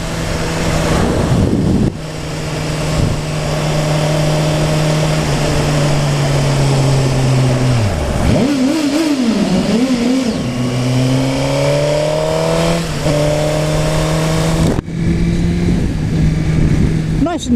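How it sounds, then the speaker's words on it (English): Close, loud car engine under a bridge, droning at steady pace, then dipping and climbing through a burst of sharp revs that echo, before settling back to a steady cruise. "We've got a little bridge up here, so we'll do a little rev bomb"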